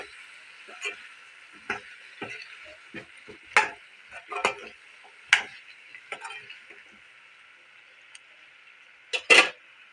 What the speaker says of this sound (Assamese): ভালদৰে মিহলি কৰি দিছোঁ।